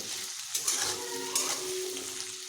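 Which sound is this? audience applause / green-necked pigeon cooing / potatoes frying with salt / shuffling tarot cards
potatoes frying with salt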